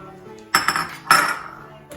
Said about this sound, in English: we'll be putting in our tapioca balls into the boiling water